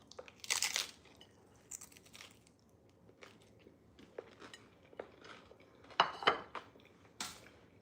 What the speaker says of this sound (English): Let me just take a bite.